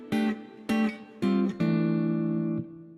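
A short Christmas melody played as four electronic notes, each doubled by a perfect fourth below for a hollow, slightly dissonant tone; the last note rings out longer than the first three.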